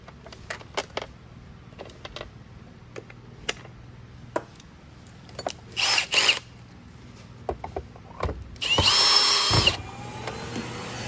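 Screws being driven back into the base plate of an Oreck XL 3500HH vacuum: scattered sharp ticks and clicks, then two short whirring bursts from a power driver, close by with no talk.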